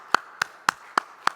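A church congregation claps in thanksgiving at a New Year service, five sharp, evenly spaced claps landing in a steady unison rhythm, moderately close.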